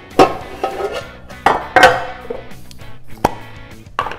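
Metal bread loaf pans clank and rattle against each other and a hard surface, several sharp knocks and clinks close by, irregular and loud.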